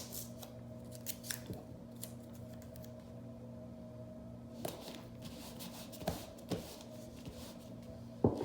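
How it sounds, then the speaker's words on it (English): Several quick scissor snips cutting printable vinyl in a quiet room, short crisp cuts spaced irregularly over a low steady hum. "I'm gonna take my handy dandy scissors so I can make sure this comes up"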